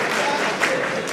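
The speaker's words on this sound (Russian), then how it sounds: "А теперь аплодируем." A crowd applauds in a dense, steady burst of clapping, loud and continuous for about a second.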